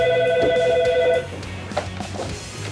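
An office telephone at the Montreal Canadiens rings with a bright, steady electronic trill that cuts off about halfway through, leaving quiet room noise and a few faint knocks.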